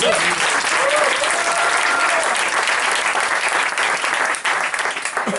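Theatre audience at an improv comedy show bursts into loud, sustained applause, a dense unbroken roar of clapping that thins slightly near the end, with a voice briefly audible beneath.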